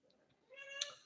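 A kitten gives one short, faint meow close by, rising out of a quiet room.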